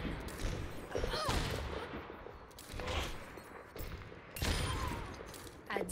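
Rapid gunfire bursts in a shooter video game, several loud close volleys with brief pauses between, repeating across the moment with game ambience underneath.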